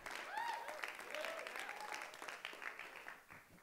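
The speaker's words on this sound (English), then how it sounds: "You're clapping now," Church audience at a Kingdom Culture service clapping in a steady mid-distance wash, with a few whoops and cheers rising over it before it thins out toward the end.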